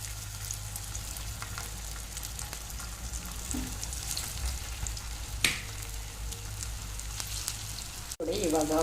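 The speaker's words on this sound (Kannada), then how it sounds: "ಇವಾಗ ಮಸಾಲ ಹಾಕಿ ಸ್ವಲ್ಪ ಹೊತ್ತಾಯಿತು ಇದನ್ನು ಇವಾಗ ಫ್ರೈ ಮಾಡಿ" Masala-coated food fries in hot oil, giving a steady, soft, close sizzle with faint crackles and one brief clink near the end.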